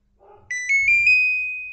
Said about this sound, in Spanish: Se escuchó que ya arranca la fuente.